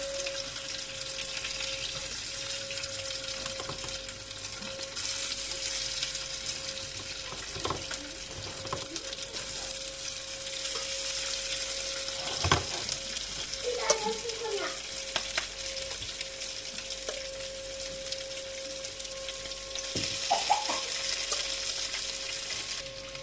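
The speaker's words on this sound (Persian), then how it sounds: "اول مرغامون رو سرخش میکنیم" Steady sizzling of chicken frying in a pan, continuous and close, with occasional clinks and scrapes of utensils over the hiss.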